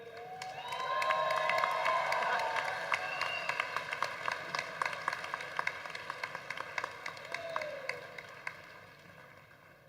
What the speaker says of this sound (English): Give him a cheer, everybody.